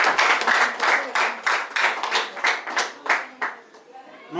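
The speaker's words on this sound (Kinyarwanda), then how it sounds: "nagira ngo bakumpere amashyi menshi cyane." A wedding crowd claps in a clear, rhythmic unison beat at a civil ceremony with dowry celebrations, loud and close with regular strong pulses, fading toward the end.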